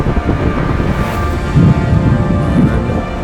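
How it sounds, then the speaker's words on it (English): Strong wind from a tornado storm roars continuously against the microphone, a heavy, rumbling buffeting with no voices. "Really windy"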